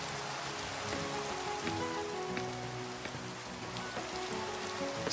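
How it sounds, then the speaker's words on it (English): Steady rain patters across a video game world, a continuous wash of drops hitting surfaces with scattered brighter ticks, alone and moderately loud throughout. "But then again, it's always raining in this world"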